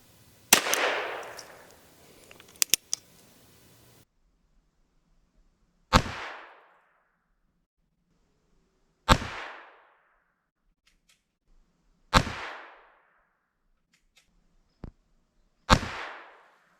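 A Ruger Wrangler .22LR revolver fired from a shooting rest, with sharp, loud cracks spaced about three seconds apart, each trailing a short decay. Clacks of handling come earlier, and a faint extra pop sounds near the end.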